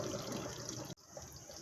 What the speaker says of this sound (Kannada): ನೀರು ಅಳತೆ ನೋಡಿಕೊಂಡು ನೀರು ಹಾಕ್ಕೊತಾ ಇದ್ದೀನಿ.